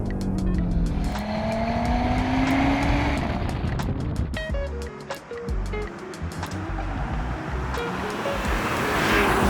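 A 2020 Audi RS Q3 Sportback under hard driving, its engine and exhaust rising and falling through gear changes with rasping revs, crackles and pops, loud and close, with no talking over it.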